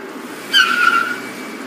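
Racing cars skid with a brief rising tire squeal lasting about half a second over a steady engine drone, moderately close.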